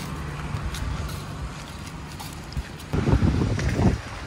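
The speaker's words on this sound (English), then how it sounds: "it's pretty windy, so I don't even know if you can hear me right now" Strong coastal gusts in Bermuda buffet the microphone with low rumbling wind noise, growing rougher and louder near the end.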